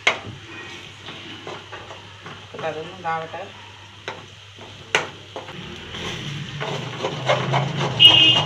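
Food is stirred in a pan after ground pepper and a pinch of salt go in. Scraping stirring strokes and intermittent knocks sound over a low, quiet sizzle that grows louder toward the end, and a voice is heard briefly and faintly in between.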